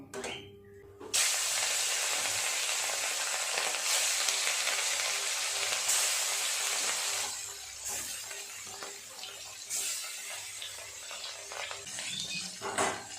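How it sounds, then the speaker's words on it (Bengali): Pieces of katla fish hit hot oil and set off a loud, steady sizzle that starts after a brief pause and runs on, easing slightly toward the end. "তেল খুব ভালোভাবে গরম হয়ে গেছে, এক এক করে মাছগুলো দিয়ে ভেজে নেব"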